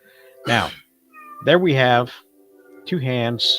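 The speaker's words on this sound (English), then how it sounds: "Let me know if you can hear my cat in the background." A domestic cat meows faintly in the background, mostly masked by someone speaking close to the microphone in three short phrases.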